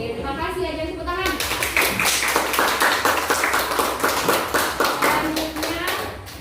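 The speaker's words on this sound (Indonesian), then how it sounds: "tepuk tangan" A group of students in a classroom clapping together, starting after a brief spoken voice, then a sustained burst of brisk, close, fairly loud applause that fades slightly at the end.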